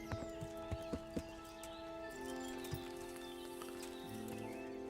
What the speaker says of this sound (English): There you are, horsey.